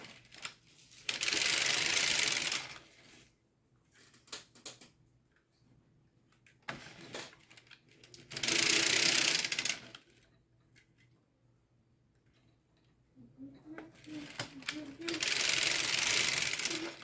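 A circular sock knitting machine runs in three loud mechanical bursts of rapid clattering, each lasting about two seconds, separated by quieter stretches of light handling clicks and a brief voice.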